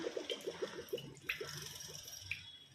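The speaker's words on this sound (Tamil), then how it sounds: "இப்போ வந்து தேவையானது நம்ம எண்ணெய் ஊற்றிக்கலாம்." Oil poured into a hot pot while cooking prawn biryani makes a quick run of soft dripping, glugging pulses, then a few scattered wet drips, quiet and close with no speech.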